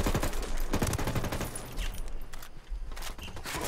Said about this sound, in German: Da wo die Schüsse herkommen.